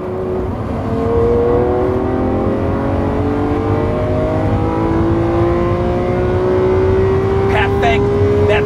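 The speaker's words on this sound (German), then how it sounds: "wenn man gerade in einem Lamborghini Countach sitzt, über 800 PS, ein limitiertes Sondermodell und wir brettern damit mal eben über die Autobahn" Lamborghini Countach limited special edition of over 800 hp accelerating hard on the Autobahn, engine tone climbing steadily through a long pull, loud from inside the car with talk over it.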